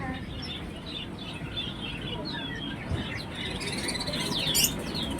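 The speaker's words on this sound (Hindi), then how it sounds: "चिड़ियों का संसार।" Small birds in a pet shop chirp and tweet in short, high calls, fairly faint against a busy, noisy indoor background, with a brighter burst of chirping toward the end.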